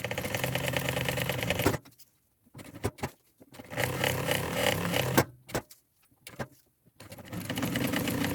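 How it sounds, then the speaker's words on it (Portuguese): A sewing machine stitches a thermal backpack with a double compartment, running in steady mechanical bursts that stop and start again, with a few short clicks in the quiet gaps between runs. "aqui agora eu vou costurar, ó"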